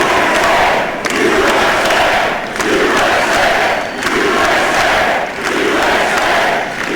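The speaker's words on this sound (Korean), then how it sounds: "굉장히 그 환호 소리가 컸고요" Large crowd at Trump's victory speech roaring and cheering in rhythmic swells, loud and close, rising and falling in repeated waves like a chant.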